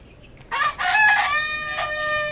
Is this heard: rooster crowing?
yes